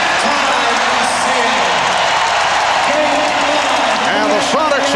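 A packed basketball arena crowd applauds and cheers loudly as the first half ends in Game 5 of the 1996 NBA Finals, Bulls at Sonics, a continuous dense roar with scattered whistles.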